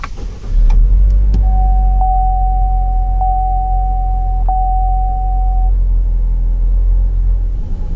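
A 2022 GMC Terrain is push-button started, giving a brief starter whir that settles into a low, steady idle rumble, with a thin electronic tone sounding over it for several seconds.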